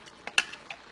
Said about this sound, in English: I'm going to take my spatula and mix it together